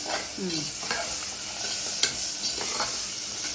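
Onions and curry leaves sauté in a pan for a mushroom egg gravy, giving a steady close sizzle broken by a few scraping stirs and one sharp clink, with no voices.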